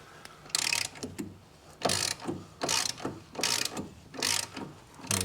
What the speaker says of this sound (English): drive ratchet, I think, and see if I can crack it loose